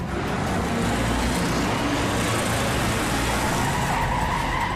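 A taxi racing around a track in a contest, its tyres skidding through a turn beneath a dense, continuous roar of engine and road noise, loud and close throughout.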